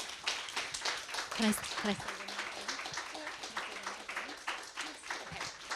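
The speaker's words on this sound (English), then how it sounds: "Can we have a round of applause, please?" Audience applause at a book talk, a broad crackle of clapping running throughout with voices speaking over it.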